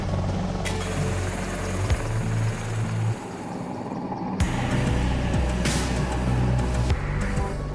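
An Apache military helicopter thunders close by, its rotor drone loud and continuous with a shifting pitch throughout.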